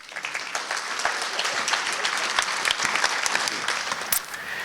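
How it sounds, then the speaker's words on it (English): An indoor audience at a personal growth talk applauds warmly, steady dense clapping from many hands, fairly close and continuous throughout with no voices over it. "I'd love you to give a warm round of applause to Mike George."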